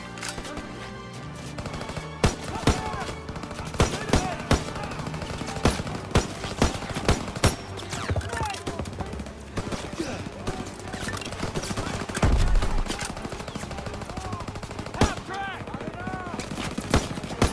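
Gunfire in the World War II shooter game Call of Duty WWII, rapid bursts and single shots cracking loudly one after another with automatic weapon fire rattling throughout, a dense, continuous battle with no talk heard.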